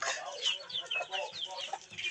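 Backyard chickens kept in pens on a Filipino farm cluck and chatter in quick, overlapping bursts, busy and close throughout.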